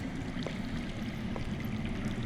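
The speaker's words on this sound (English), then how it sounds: "I hear water. From underground." Water flows underground, heard in the Game of Thrones PC game, a steady rushing stream with faint trickles, close and continuous, with no talking.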